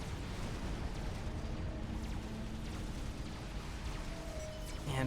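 Nuclear missiles explode in a Supreme Commander: Forged Alliance Forever battle, a loud, sustained, rumbling roar of detonations with a brief sharper burst near the end.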